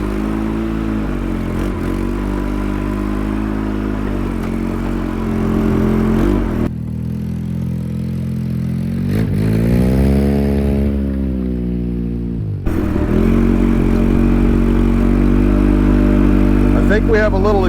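A 2003 Polaris Sportsman 700 ATV engine runs with a low, rumbling drone while the machine rides slowly around a yard, revving up briefly in the middle, with a slight exhaust leak and people talking nearby.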